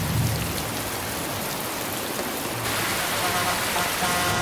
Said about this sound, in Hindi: कितनी बारिश है चलो भगवान।